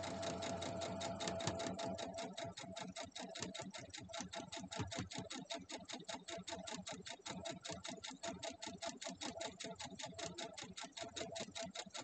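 A sewing machine stitches through fabric in a fast, steady mechanical rhythm, running close and continuously throughout with no talking.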